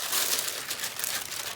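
Crunchy, coffee-dyed paper crinkles and crumples close by in a steady, dense rustle lasting under two seconds, with no voices.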